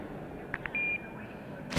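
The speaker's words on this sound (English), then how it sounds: "Leave a message after the beep and we'll get right back to you." Single steady electronic answering-machine tone of about a quarter second in the video game The Darkness, preceded by two short blips and heard alone against a low background hiss, ending with a brief click.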